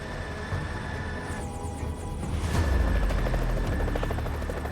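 A helicopter's rotor thumps and engine roar fill the air over New York City, growing louder as it passes fairly close overhead, a steady rumbling drone throughout.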